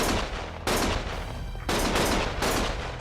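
Sustained gunfire from the action game Lost Judgment: dense, loud rapid bursts of shots that roar continuously, swelling again in waves with hardly a pause.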